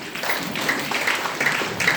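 An audience at a motivational talk applauding, a moderate wash of clapping with some individual claps standing out, fairly even, with a voice faintly present underneath.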